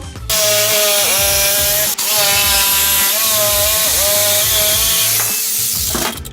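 An electric jigsaw whines steadily through wood for several seconds, briefly dipping once partway, then winding down near the end; loud and close, no talking.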